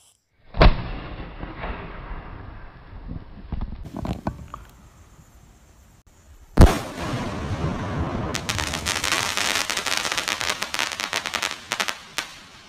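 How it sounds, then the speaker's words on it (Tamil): A Pink Pong sky shot firecracker is lit at night during Diwali: a sharp bang, then scattered pops, another loud burst, and a dense run of rapid crackling explosions. "பிங்க் பாங் அப்படின்ற ஸ்கை ஷாட்டு வேறு லெவலில் இருக்கும் அப்படின்னு நினைக்கிறேன்"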